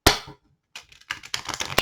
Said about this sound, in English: I just started to shuffle the deck